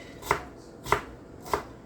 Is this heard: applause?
no